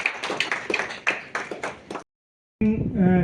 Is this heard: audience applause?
yes